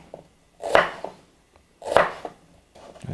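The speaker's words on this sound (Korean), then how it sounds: "이렇게 타원형으로 썰어주시고요." A knife slices halved onion into oval pieces on a cutting board, giving two crisp, close chopping strokes with a quieter third starting at the end, with no talk.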